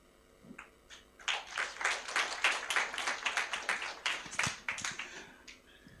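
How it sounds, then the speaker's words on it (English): Audience applause at a town hall forum during a gift presentation: a few isolated claps, then a sustained burst of hand clapping for several seconds that tapers off at the end. "Let's give them a better hand of applause as we do this."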